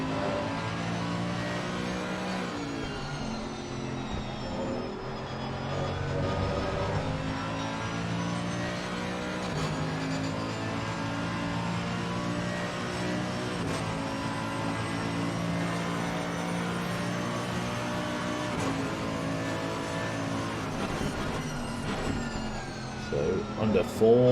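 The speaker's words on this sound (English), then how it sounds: "Get the epic sound of the BMW engine for a little bit. No, the Mercedes even." Mercedes race car engine in a sprint racing video game, droning steadily with harmonic whine and revving throughout, mixed with a commentator talking over it.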